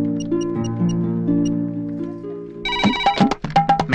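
A telephone on an outgoing call gives a loud melodic ringtone, steady tones at first, then a busier burst of bright, chiming notes near the end.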